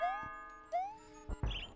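A two-note ding-dong chime from the video game Super Mario Maker sounds twice, bright and clear, followed by a short burst of noisy game sound at the end.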